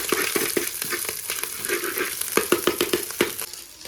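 Cumin seeds crackle and sizzle in hot oil, close and fairly loud, with a dense run of sharp popping clicks over a steady hiss, the pops clustering toward the end, and no talking.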